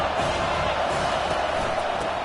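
Stadium crowd at a college football game, Tennessee versus Iowa, roars as a dense, steady wall of noise throughout, loud and continuous with no distinct breaks.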